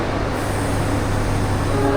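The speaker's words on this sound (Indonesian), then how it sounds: "Jadi ini berpapasan dengan ini adalah kereta api Kalingkung tujuan dari Semarang Poncol ke Tegal." The Kalingkung passenger train, running from Semarang Poncol to Tegal, passes close by in the rain, a steady loud rumble of wheels and carriages with faint squealing tones, heard from a train crossing it.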